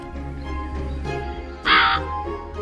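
A crow gives a single loud, close caw in a bedtime audio story, set over a steady low background bed.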